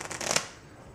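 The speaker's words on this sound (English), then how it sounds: "you shuffle them together just like that." A quick riffle of playing cards being shuffled together, a soft crisp burst of flicking cards that stops abruptly and leaves near silence.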